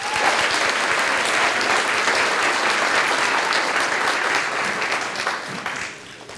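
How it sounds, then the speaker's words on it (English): An audience at a school fairy tale play gives a big round of applause, dense and loud, holding steady before tapering off near the end. "So big round of applause for them too,"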